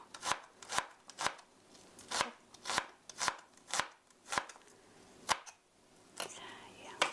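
A kitchen knife chops onion on a cutting board, giving quick sharp chops in an uneven run of about fourteen strikes, close up and clear with no talking.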